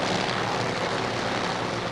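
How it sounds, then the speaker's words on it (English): A 1970s drag racing car engine at the NHRA Gatornationals roars steadily after a crewman starts it, a loud, continuous droning rumble with no pauses. "the crewman starts the engine for Shiro Greer"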